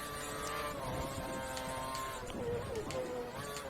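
In the F1 2013 racing video game, a Formula 1 car engine whines at high revs, its pitch rising and dropping through gear changes, steady and prominent with competing cars nearby.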